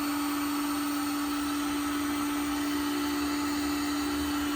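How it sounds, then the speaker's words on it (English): A heat gun running on high, powered by a Calpha 48V 3500W all-in-one solar charger inverter, gives a steady fan-like whoosh with a constant electrical hum, unbroken and close, with no voices. "Now that's the heat gun you're hearing."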